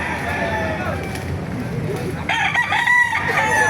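Roosters crow and chickens cluck at a poultry market in Baliuag, Bulacan, with a loud crow rising near the end amid busy market noise and people talking.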